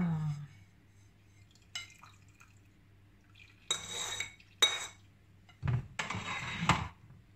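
Spoon stirring ginger-lemon juice in a glass or pot, giving a few separate bursts of clinking and scraping with quiet pauses between them.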